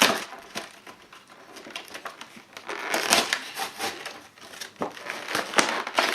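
Crinkly plastic wrapper of a Pokémon card pack being torn open by hand and crumpled, a dense run of sharp crackles and rips, close and fairly loud with no talking.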